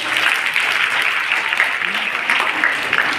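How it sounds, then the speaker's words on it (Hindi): Loud applause for guests at a college event, a dense, steady wave of clapping from a large crowd, with faint chatter underneath. "एक बार जोरदार तालियां।"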